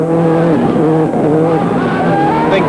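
A Subaru Impreza WRC rally car, 2001, runs hard into the last corner of a stage and overshoots it, with a loud engine howl rising and falling through gear changes as the tyres squeal close by.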